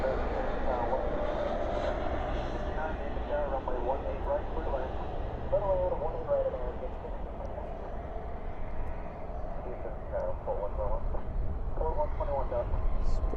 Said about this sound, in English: This one's an A321neo coming in from SFO.